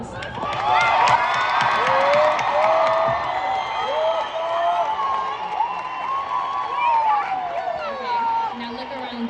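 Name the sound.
audience applause and cheering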